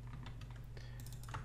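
Fingers tap on a computer keyboard, a quick uneven patter of close key presses over a low steady hum.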